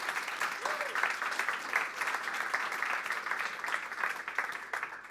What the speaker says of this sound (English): Big round of applause to Cha.